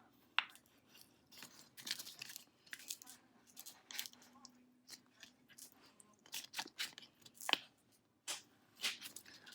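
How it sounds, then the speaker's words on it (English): Vinyl craft label being reverse-peeled from its transfer tape backing: a series of close, crisp crackling peels and sticky rips in short bursts with quiet gaps between, no talk. "now same thing, I'm just gonna kind of reverse peel this"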